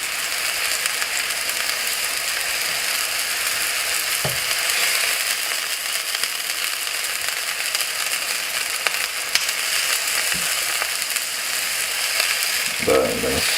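Turkey meatballs sizzle steadily in a hot pan, a continuous close frying hiss with occasional soft clicks and scrapes as tongs turn them, no talking.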